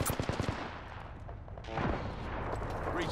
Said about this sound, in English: Jugger's shooting at me.